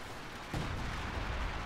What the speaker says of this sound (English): They have all the artillery coming down